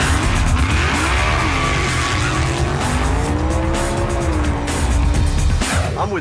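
An NHRA Super Comp dragster at a drag racing school roars loudly and continuously, its engine pitch rising and falling, with tire squeal mixed in.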